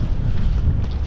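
Wind gusts buffet the microphone on an open fell above Rydal Water in the Lake District, producing a continuous low rumble with no voices.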